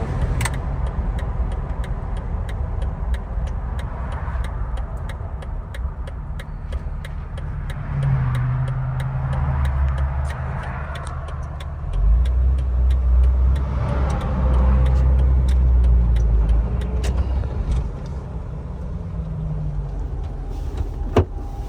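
A 2004 Jeep Wrangler TJ drives on asphalt in four-wheel drive, its steady engine and road rumble continuous throughout, with a low drone swelling louder midway.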